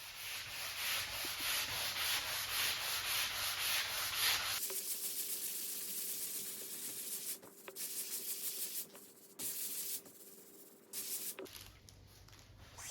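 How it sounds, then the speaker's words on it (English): A 220-grit sanding sponge rubs over pine wood in steady, close, raspy strokes, first continuous and then broken into short bursts with brief pauses between them. "I used a 220 degree sanding sponge again."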